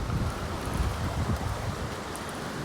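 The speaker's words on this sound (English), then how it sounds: "Well, it is super windy out here." Strong gusty wind buffets an outdoor garden on a cold day, a continuous loud roar of rushing air battering the microphone, with no pause between gusts.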